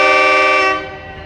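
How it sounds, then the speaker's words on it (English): A loud, close train horn sounds in one sustained blast that fades out after about a second, with no talking. "I'm sorry about the train."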